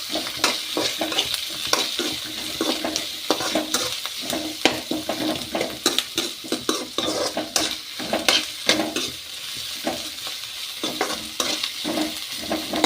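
Beans and potato stir-fry in a pan for palya, with a steady sizzle broken by frequent quick scraping and stirring strokes close by and no talking.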